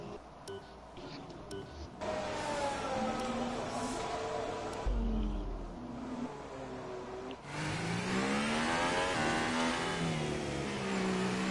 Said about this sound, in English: I love the sound of that Honda engine